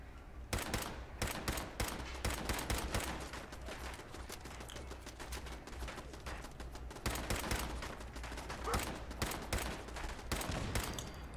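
Sustained automatic turret gunfire in Fallout 4, rapid sharp bursts of shots firing repeatedly across the whole stretch, loud and close with brief gaps between volleys, no talking.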